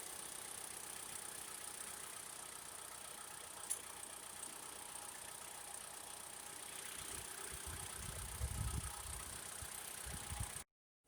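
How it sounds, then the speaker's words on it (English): A 2015 Mitsubishi Outlander Sport engine idles at a low, steady murmur, quiet and even, with a brief deeper rumble near the end before it cuts off. "We could just let the engine warm up more"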